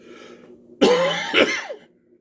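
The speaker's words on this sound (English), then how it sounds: "I still have a little bit of a cough." One close, harsh cough followed quickly by a second rougher burst, with quiet room noise before and after.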